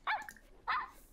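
A dog in The Sims 4 video game gives two short, loud barks about half a second apart, with quiet gaps between them and no talking.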